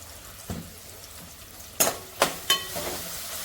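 Spices, turmeric and Agri-style masala, fry in hot oil in a pan, a soft sizzle under a few sharp scrapes and taps of the spoon as the mixture is stirred.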